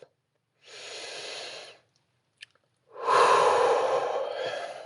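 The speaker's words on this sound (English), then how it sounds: "take a deep breath" A slow, deep breath drawn in through the nose, a short pause, then a longer, louder rushing exhale, close and alone in otherwise near silence.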